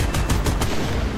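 Japanese 30 mm cannon firing in an aircraft combat video game, four rapid, evenly spaced heavy bursts in quick succession over a dense engine roar, then the roar continues alone.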